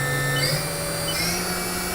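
The spindle of a Haas VM-3 vertical milling machine spins at high speed, giving a steady, even whine with sustained tones that holds loud and unbroken.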